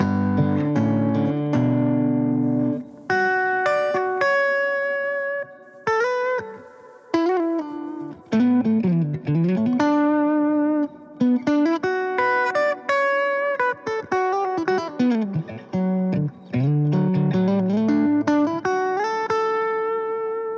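A clean electric guitar through a Line 6 POD Go plays a melodic line with sustained, ringing notes, wrapped in noticeable delay repeats and a reverb tail.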